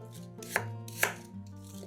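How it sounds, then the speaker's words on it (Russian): A knife chops apples into small pieces on a board in a few sharp, evenly spaced strokes, close and crisp. "Яблоки нарезаем небольшими кусками."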